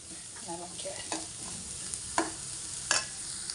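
Ivy gourd stir-fry with turmeric and salt being stirred in a pan, a low sizzle under repeated sharp scraping and clinking strokes of the spoon, several distinct knocks near the end.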